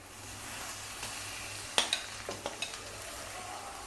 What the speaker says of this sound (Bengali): পেঁয়াজটাকে ভালোভাবে একটু নেড়ে চেড়ে ভেজে নেব।